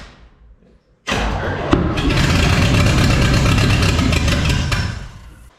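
Chevrolet C10 truck engine starting up after a quiet moment, then running loud and steady with a rough, thumping idle and a brief knock, close by before easing off at the end.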